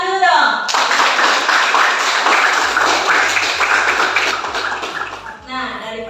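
Classroom clapping from students rewarding a classmate's good answer, a dense burst of many hands lasting several seconds and fading near the end, with a voice briefly heard before and after.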